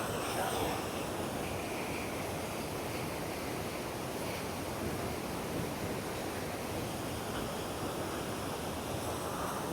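A large forest waterfall roars continuously, a dense, steady broadband rush of falling water that stays loud and unchanging throughout with no voices above it.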